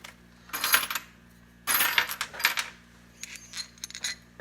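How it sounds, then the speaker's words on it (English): Metal U-bolts and wedges from an Alaskan sawmill kit are set down on a hard surface one after another, making a series of sharp clinks and rattles that come close and fairly loud. "I'll lay the bolts out."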